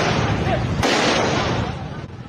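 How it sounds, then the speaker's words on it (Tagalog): A single sharp gunshot fired by police during an arrest cracks out once over steady broadband noise and background commotion, loud and close. "Doon na siya pinaputukan ng baril sa kanang binti kaya napahiga ang lalaki."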